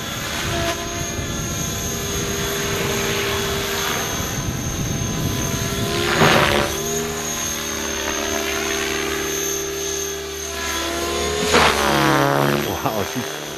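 A T-Rex 600 RC helicopter flies with a loud, steady rotor and motor whine that rises and falls in pitch with two sharp swells as it climbs and maneuvers.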